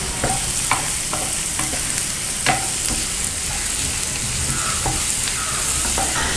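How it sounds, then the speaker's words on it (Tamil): Onions and green chilies sauté in hot oil in a pan, giving a dense, close sizzle that runs the whole time, broken by sharp clacks and scrapes of the stirring spoon. No one speaks. "இப்போது பச்சை மிளகாய், வெங்காயம் நல்லா பொன்னிறமாகிற வரைக்கும் வதக்கிக்கலாம்."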